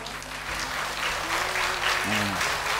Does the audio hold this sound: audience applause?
yes